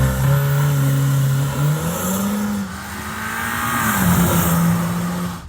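A modified VW Golf R with a bigger turbo accelerates hard from a standstill to 60 mph, its engine droning loud and steady and climbing in pitch through the gears, heard from inside the car.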